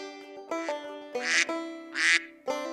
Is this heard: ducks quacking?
yes